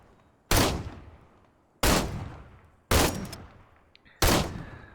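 A 12 gauge shotgun firing slugs in Arma 3, four loud, sharp single blasts spaced about a second apart, each with a quick decaying echo tail and no talk over them.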